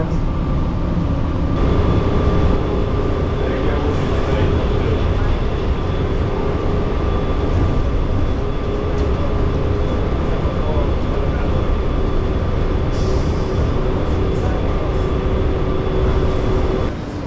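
An airport people-mover train runs with a steady, loud rumble and a faint electric hum, and a recorded announcement plays over the noise.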